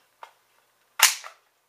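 An AK-47 rifle bolt is released from hold-open during a tactical reload: a faint small click, then a loud, sharp metallic snap close by, trailing off quickly in a short rattle.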